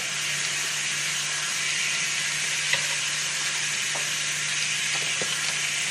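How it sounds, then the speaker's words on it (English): Salmon fries in butter in a pan with a steady, even sizzle and hiss, broken by a few faint clicks and light stirring taps. "Cooking salmon on butter."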